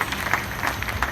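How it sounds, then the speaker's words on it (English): Short burst of audience applause at a live stage show in Jurong, a fairly soft patter of scattered claps with a few louder hand hits standing out. "How about give him a round of applause?"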